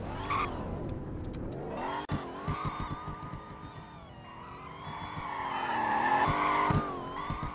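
A car in the Roblox-style driving game Greenville squeals its tires and skids while slowing and manoeuvring to park, with the engine droning and shifting pitch underneath, loud and continuous.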